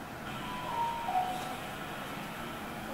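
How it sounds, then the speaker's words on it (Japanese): Door chime of a model train on the Kato hobby center Tokyo layout of the Tokyu and Sotetsu Shin-Yokohama lines: two short, soft tones in quick succession over a quiet background hum. "おなじみのドアの音が鳴りまして"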